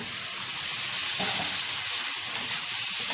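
Washed chicken pieces hitting a hot pan with turmeric-spiced oil, a loud, dense, even sizzle and hiss held steady for a few seconds, close up and with no voices.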